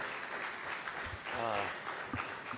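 Audience applause at a human rights conference, a broad steady wash of clapping at moderate level with some talk mixed in around it.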